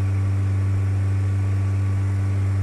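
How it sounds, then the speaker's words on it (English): Steady, loud drone of a Cessna 172 single piston engine in Flight Simulator X, droning evenly and close with no talk during a low glide-slope approach at about 120 knots. "The engine sounds like she's working overtime."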